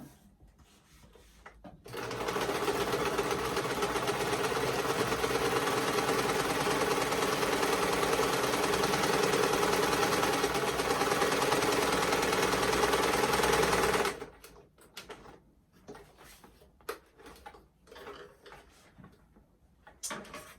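A sewing machine stitches a fabric face mask in one steady, loud run of fast mechanical whirring lasting about twelve seconds, then stops abruptly, leaving faint handling taps and rustles.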